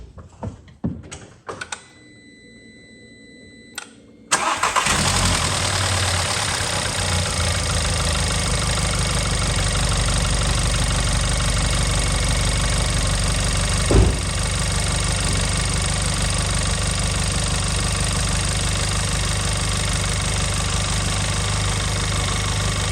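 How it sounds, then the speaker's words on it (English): A few clicks and a door sound, then an Audi A1 1.4 TFSI (CAXA engine) cranks and catches after a filter and spark plug service, settling into a steady, loud idle that runs on unchanged. "Finally, we can start the car."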